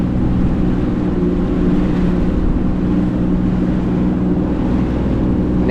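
A Yamaha VX Cruiser personal watercraft idles at low RPM around 4 mph in no-wake mode on the ocean, a loud, constant low engine drone mixed with wind buffeting and water wash, with no talk.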